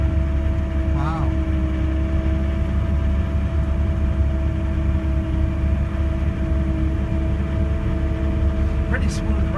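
A tracked winch-cat snow groomer drives on a ski hill, giving a steady, loud engine rumble and idle-like drone with a constant hum from the cab throughout, plus brief faint chirps.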